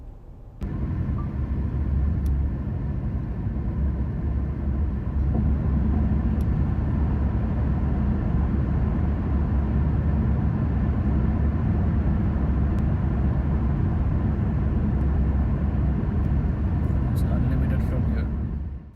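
Steady, loud road and engine rumble of a car driving on a German autobahn, continuous broadband roar throughout with no talk.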